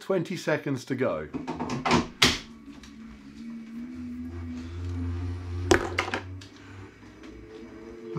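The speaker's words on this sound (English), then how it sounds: "that clicking noise you can hear is me locking into the pedals" Cycling shoe cleats snap into bike pedals on an indoor trainer setup with a few sharp clicks among other clatter, someone speaking briefly at the start and a low steady hum underneath.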